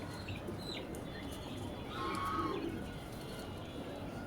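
A pigeon gives low, soft cooing calls at middle distance, faint against steady background noise, with a short swelling coo near the middle.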